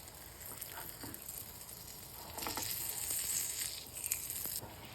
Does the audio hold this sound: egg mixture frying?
yes